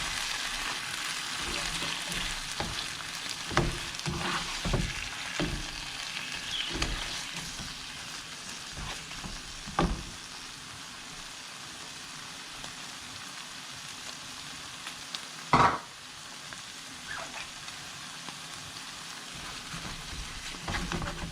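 Sliced tomatoes sizzle and fry in a pan for coriander chicken dum biryani, a steady crackling hiss broken by several sharp clatters of stirring, with a voice heard faintly underneath.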